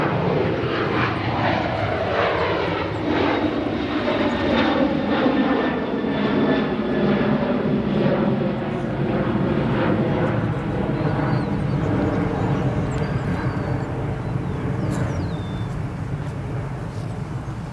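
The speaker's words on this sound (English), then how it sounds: "we got a 321 Neo departing 28 right" An Airbus A321neo jet departs runway 28 right at O'Hare, its engines roaring loud and steady throughout as a broad, sustained wash of thrust noise.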